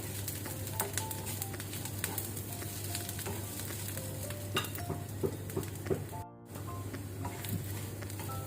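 Onions with dry red chillies frying for a tadka, a steady soft sizzle under a constant low hum, with faint stirring clicks and a brief dropout midway.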